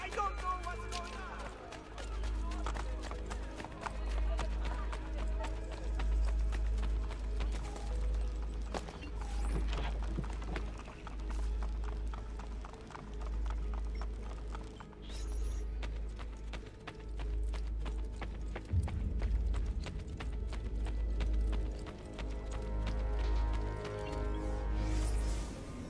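Horse hooves galloping in the Assassin's Creed Brotherhood video game, a steady rhythmic clopping that runs throughout under a low game drone, with voices calling out now and then.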